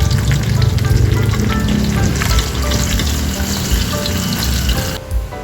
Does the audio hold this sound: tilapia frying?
yes